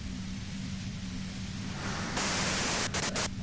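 Loud, steady radio white-noise static from the video game Disco Elysium, a continuous hiss under a low hum that swells brighter and harsher partway through, with brief dips near the end.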